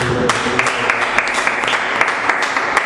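A church congregation claps together at the close of a worship service prayer, a steady run of soft, evenly spaced claps with crisp accents, moderately loud and without talking.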